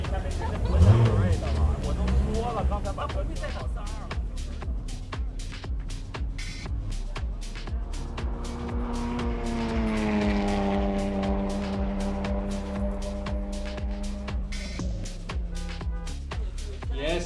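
A Porsche 911 Turbo runs on a racetrack, its engine note climbing and falling in pitch through a steady, moderately loud pass beneath continuous excited commentary.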